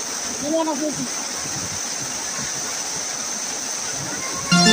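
Falling water at San Ysiro Falls in Antipolo makes a steady close roar. A voice speaks briefly over it near the start, and a louder burst of sound comes at the very end.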